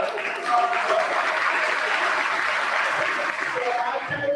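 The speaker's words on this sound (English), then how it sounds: "they deserve a round of applause as well" An audience at a middle school promotion ceremony gives a round of applause for the school's teaching, administrative, custodial and security staff. The clapping is dense and continuous for several seconds, with a few chuckles in the crowd.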